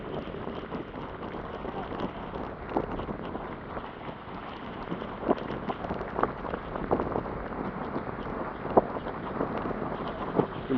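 Heavy rain and strong wind lash Jaffna during a flood near the sea, a steady rushing roar with gusting bursts and scattered patters, while someone talks over it.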